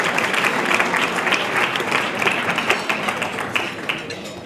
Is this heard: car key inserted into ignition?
no